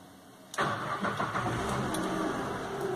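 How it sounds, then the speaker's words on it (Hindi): A car engine cranks and catches after about half a second, then settles straight into a steady, close idle that fills the rest of the moment. "इंजन ऑन कर दिया मैंने, आवाज आ रही होगी।"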